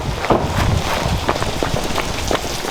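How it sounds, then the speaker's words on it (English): Rain falls steadily on a cold, dreary day, a dense continuous patter of drops with a few louder splashes, fairly close and without voices. "I wish the weather was a bit more enjoyable, because today just sucks with this rain"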